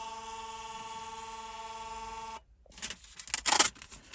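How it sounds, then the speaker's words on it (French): A steady electronic tone from an RS01 taximeter in a taxi stops abruptly, then its small receipt printer buzzes and rattles in short bursts as a ticket feeds out. "il y a la petite imprimante qui s'affiche, le premier ticket sort."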